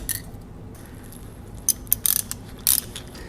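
Ratchet clicking while tightening bolts on a Porsche 944 engine, a few short, sharp bursts of ticks close by, mixed with light metallic handling and no talk.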